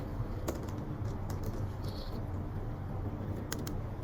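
Typing on a computer keyboard while writing Kotlin code, a steady run of soft, close key clicks over a faint background hum, with no voices.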